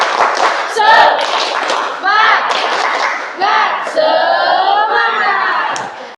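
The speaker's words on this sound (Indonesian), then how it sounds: "Tepuk semangatnya dulu. Tepuk semangat." Classroom students perform a rhythmic spirit clap, a loud group of children's claps and chanted shouts in bursts, with lively voices throughout.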